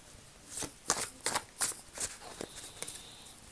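Gaïa oracle cards being shuffled during a tarot-style reading, a run of soft papery riffles and slaps coming in quick bursts, close and fairly quiet with no talk.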